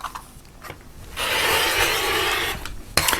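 Rotary cutter slicing through a quilt top along a ruler: a steady, close rasping cut running for about a second and a half after quieter handling, ending with a few sharp knocks.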